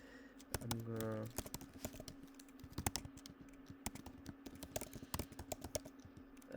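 Close, quick keystrokes on a computer keyboard while entering NestJS code, in irregular bursts over a low steady hum, with a brief hum-like voice sound near the start.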